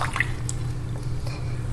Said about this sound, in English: let me test the water.